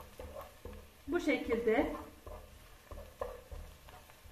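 Onions frying in a pot for spinach rice, stirred with a spoon so the sizzle swells in a short burst amid soft scraping, close by, while a person speaks briefly.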